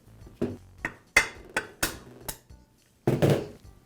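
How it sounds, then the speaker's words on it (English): A socket tapped against a bearing in a Milwaukee reciprocating saw housing resting on a flat surface, about seven sharp metallic knocks at an uneven pace, close and clear, with a short pause before the last pair. "I'll place the housing on a flat surface and use a socket to tap the bearing free."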